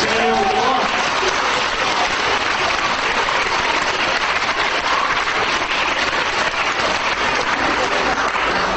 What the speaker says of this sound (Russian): Давайте всем аплодируем.